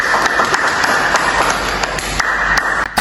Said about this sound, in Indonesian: Boleh beri tepuk tangan yang meriah untuk Saudari Septira.